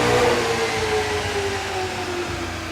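A car engine, recorded with about eight microphones placed around the car, holds a steady, loud, droning run with a slowly falling tone, heard alone without talk.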